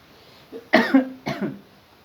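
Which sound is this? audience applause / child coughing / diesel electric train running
child coughing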